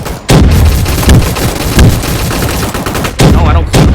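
Turret gunfire in the video game Gun Fight Arena, loud rapid bursts of automatic shots rattling almost without pause, with a few heavier booming hits standing out.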